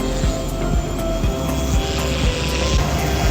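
A PIONEERX F07 UH-1 Huey brushless RC helicopter hovers with a steady, loud electric whine and rotor hum, with faint rhythmic blade thumps throughout.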